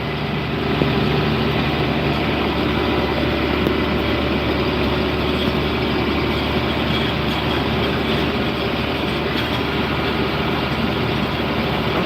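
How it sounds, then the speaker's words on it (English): A tractor pulls a 750 grain drill while planting soybeans, its heavy engine droning loud and steady with a dense, unbroken mechanical rumble throughout. "I'm planting soybeans with a 750 grain drill."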